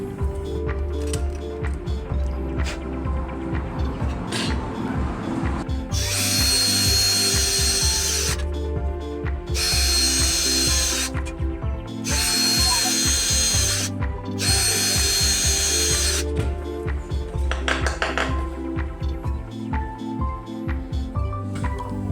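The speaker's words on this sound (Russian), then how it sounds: "и сверлим." A power drill whirs steadily, bursting into several loud high-speed runs of grinding and drilling a mounting hole while building a spiral satellite antenna, with clicks and mechanical rattling between them.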